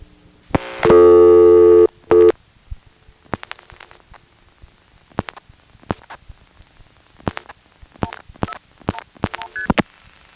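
Coin payphone in Greenville, North Carolina, 1980, dialing 179 then a 404 Atlanta number: a loud tone burst near the start, then a rapid series of short dial clicks and brief tones spread across the clip, with no talking.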